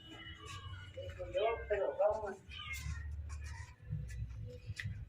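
A cat meows in a series of rising and falling calls over a low background rumble, fairly close and moderately loud, with the calls bunched in the first half and a few scattered sounds afterward.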